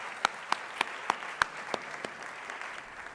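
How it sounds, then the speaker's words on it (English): A small round of applause at a college fall opening meeting: a few distinct, evenly spaced claps fading into a soft room murmur, fairly faint and with no talking. "Can we get another round of applause for them?"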